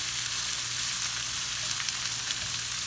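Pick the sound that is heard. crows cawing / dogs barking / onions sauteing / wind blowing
onions sauteing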